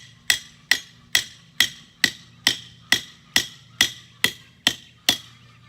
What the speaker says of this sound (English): and then we'll hammer it in